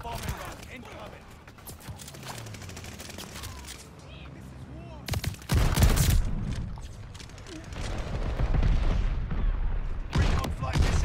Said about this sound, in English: Allies call the bombing run. Incoming.